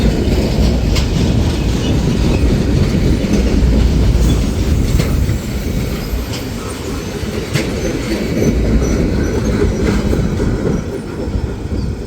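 Wisconsin & Southern freight train with Department of Defense flat cars rolling past near Whitewater, Wisconsin: loud, close rumble with continuous rhythmic clickety-clack of wheels over rail joints and occasional faint squeals, sustained throughout with no talk.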